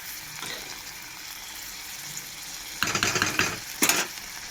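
Pumpkin stems frying in a pan give a soft steady sizzle, with bursts of stirring and scraping near the end.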